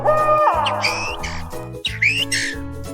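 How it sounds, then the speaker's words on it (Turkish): Bird chirps and whistled calls ring out over a steady low musical drone, bright and fairly close, in short repeated bursts. "rüzgarın hışırtısını, kuş cıvıltılarını duymaya başladı"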